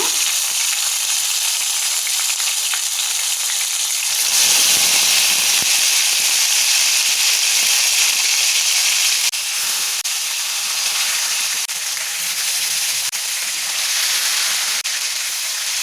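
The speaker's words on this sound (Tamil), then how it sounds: "இப்போ எண்ணெய் சூடானதும் நம்ம இந்த எண்ணெயில் இந்த கத்திரிக்காய் கத்திரிக்காயை போட்டு ரோஸ்ட் பண்ணி எடுக்கலாங்க" Eggplant frying in hot oil in a pan, giving a loud, steady hiss and sizzle that swells briefly partway through and then carries on evenly with no talk.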